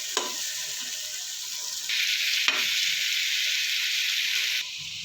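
Mutton biryani with greens and yogurt sizzles steadily in a hot pan while a utensil scrapes and stirs through it, a couple of sharp clinks against the metal.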